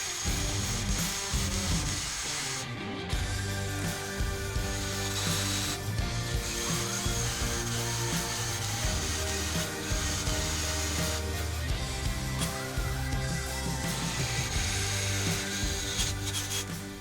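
Drill bits grinding into flat steel stock, a continuous close-up rasping and whirring with short pauses and changes in pitch, heard alone without talk.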